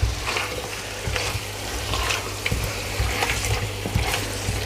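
Bullet chilies frying in hot oil for chicken pilau, a close crackling sizzle punctuated by repeated stirring scrapes and bursts of spatter.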